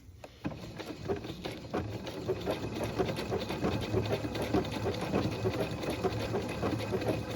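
A sewing machine stitches a blanket-stitch appliqué onto a quilt block, a close, steady mechanical chatter with a quick regular needle rhythm running throughout and no talking.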